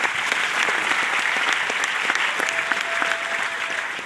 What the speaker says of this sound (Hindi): एक ताली हो जाए उनके लिए